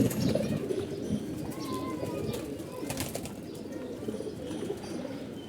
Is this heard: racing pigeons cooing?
yes